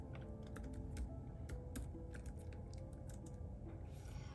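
Rapid typing on a computer keyboard, a dense run of close, crisp keystrokes at an uneven, steady pace over a faint background hum, with no talking.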